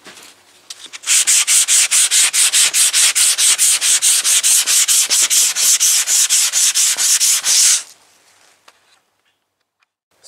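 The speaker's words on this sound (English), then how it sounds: "Sanded it with the 180." Close, loud scratchy sanding of a fiberglass panel with 180-grit sandpaper, fast regular back-and-forth strokes for about seven seconds, then stopping abruptly into quiet.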